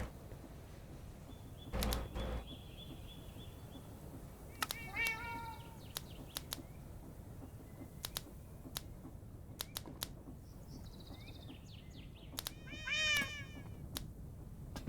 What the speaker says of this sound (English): Meow to you too, Rad Cat.